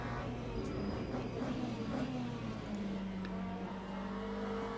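Race car engine droning steadily in Le Mans Ultimate while slipstreaming behind an LMP2 prototype, with tonal engine whine shifting slightly in pitch over continuous loud road and tire noise.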